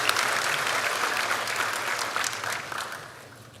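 A graduation audience at the Snead State Community College spring commencement applauding; dense, even clapping from a large hall that gradually fades out toward the end.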